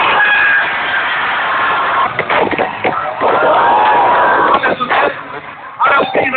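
Crowd noise from spectators at a Red Bull X-Fighters freestyle motocross exhibition in Piata Constitutiei, Bucharest, a steady near babble of cheering and clapping that swells and dips throughout.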